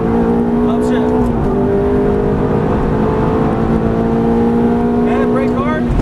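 A Ferrari F430 engine pulling hard at full throttle on a racetrack, a loud sustained roar with rising pitch and a brief gear-change dip, heard from inside the car.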